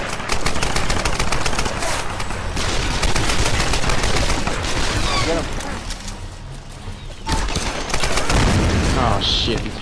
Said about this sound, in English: he shot a grenade at me